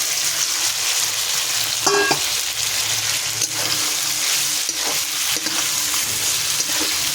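Pointed gourd (potol) frying in oil, a dense, loud, continuous sizzle close up, with occasional soft scrapes of stirring and no talking.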